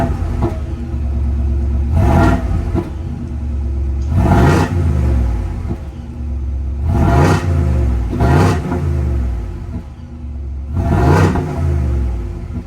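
2024 Ford F-250 STX with a 6.8 liter pushrod V8 idling after start, a deep steady rumble broken by about five sharp throttle revs that rise and fall, loud and close with no talking.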